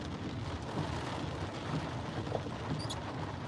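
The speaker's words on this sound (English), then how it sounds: "Lightning storm hitting right now." Heavy thunderstorm rain pours steadily over Las Vegas in a continuous dense wash, with no distinct nearby thunderclap standing out.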